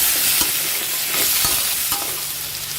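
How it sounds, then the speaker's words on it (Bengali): Potato and pumpkin chunks frying in a pan with oil, a loud steady sizzle broken by scraping stirs and soft clinks of the spatula, close up with no talking. "প্রথমে দিয়ে দিচ্ছি আলু আর কুমড়ো। এগুলোকে প্রথমে একটু ফ্রাই করে নিচ্ছি।"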